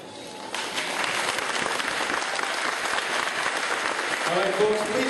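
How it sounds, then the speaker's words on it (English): Crowd applause at a Relay For Life survivor ceremony, steady, dense clapping from a large outdoor crowd, beginning after a half-second pause and sustained at full strength, with a voice speaking over it near the end. "please keep your applause going"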